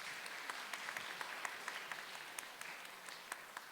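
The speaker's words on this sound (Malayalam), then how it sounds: "ഒരു കൈയടിക്കാം" A church congregation applauds parents at a First Holy Communion, steady crowd clapping with sharp individual claps poking out, moderately distant and continuous throughout.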